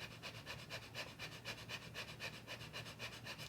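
Rapid, even breath-of-fire breathing from the navel center, with quick rhythmic puffs of about four per second that are soft and close throughout.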